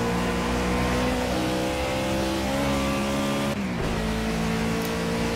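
A Ford Fusion NASCAR race car in Project CARS, driven at Watkins Glen, roars loud and steady at high revs, its engine pitch climbing gradually, then dipping sharply around a shift or lift before picking back up.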